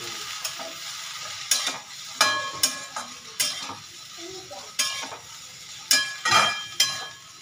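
Okra being cooked as bhindi masala with turmeric, coriander powder and cumin powder in a pan, giving a steady low sizzle broken by repeated sharp scraping stirs at an uneven pace, close and moderately loud.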